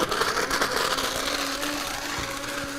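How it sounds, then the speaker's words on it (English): A blender whirs while blending fruit, a steady high motor whine with a few clunks underneath, running continuously at moderate loudness. "I'm just going to blend this."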